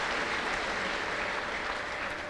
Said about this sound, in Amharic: ኦይ እስኪ አጨብጭቡላችሁ የገባችሁ ሰዎች አጨብጭቡ